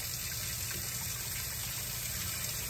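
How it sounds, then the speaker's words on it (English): Water gushes steadily from a tap into a kitchen sink, a constant close rushing stream that fills the whole stretch without breaks or voices. "Once the sink gets halfway full, you'll move it over"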